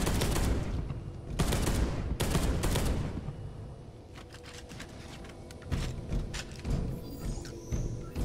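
Heavy bursts of gunfire and incoming missile blasts in the Space Hulk: Deathwing video game, loud broadband volleys in the first three seconds, then scattered quieter shots and impacts through a lingering rumble.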